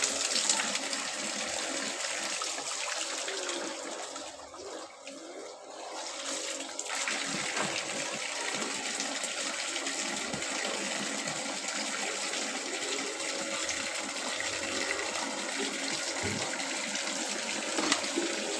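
Tap water runs steadily as bottles are filled, a continuous rushing gush with a slight dip partway through, holding constant for nearly twenty seconds with no talking.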